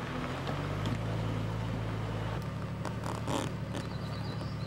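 A boat's engine runs steadily with a low drone and a constant hum. A shift partway through sounds like a change in throttle, with wind and some clatter close by.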